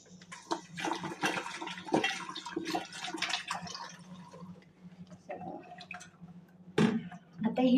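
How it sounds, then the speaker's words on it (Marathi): Karinde tubers being washed by hand in a pot of water, with continuous close sloshing, splashing and dripping, plus a louder surge of water near the end. "तर चला आता धुवून घेऊया सो इथे टोप घेतला आहे"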